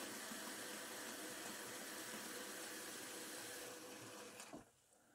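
Water streams steadily into the removable water tank of a Bosch dryer, a loud continuous rushing pour lasting several seconds that stops abruptly near the end, leaving quiet, no talking.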